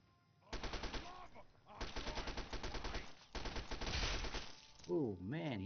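Rapid machine-gun bursts from an automated turret in Fallout 3, three long rattling volleys in quick succession, loud and close, with a wobbling electronic tone at the end.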